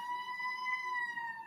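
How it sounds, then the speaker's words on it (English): An ambulance siren holds a steady, sustained wail, moderately loud, heard alone with no voices. "Ambulance."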